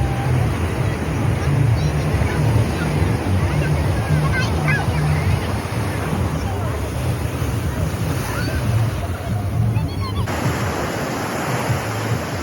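Sea waves on a beach in Goa, a steady broad wash of surf with heavy wind buffeting the microphone throughout, loud and continuous without distinct breaks.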